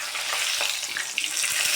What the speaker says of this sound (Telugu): మీడియం ఫ్లేమ్లో వేయిస్తున్నాను.